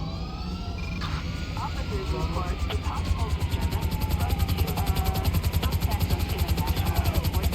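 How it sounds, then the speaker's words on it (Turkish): Rotor chop of a stolen helicopter in GTA 5, a steady rhythmic beating that grows slightly stronger, with a constant engine whine and scattered game sounds layered over it. "Helikoptere bindik. Arakladık bir tane helikopter."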